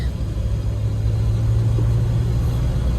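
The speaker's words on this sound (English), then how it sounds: "we're gonna take her out on the highway" A 1978 Jeep Wagoneer cruising on the highway, its engine a steady, loud low rumble with road noise filling the cabin, continuous and without talk.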